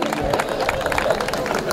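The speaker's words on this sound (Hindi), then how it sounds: "जोरदार तालियां" An audience at a comic poetry gathering bursts into loud, dense clapping, a busy patter of many hands with crowd murmur mixed in.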